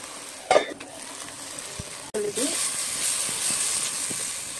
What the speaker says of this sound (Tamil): இதையும் நல்லா வதக்கிக்கோங்க